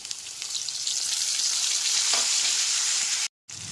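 Diced potatoes and chopped tomatoes sizzle in oil in a pan over a medium gas flame. The frying hiss is steady and close, with no voices, and cuts out briefly just before the end.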